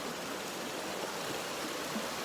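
A creek crossing on the Harper Creek hiking trail, its water rushing in a continuous broadband wash, close and steady, with no voices.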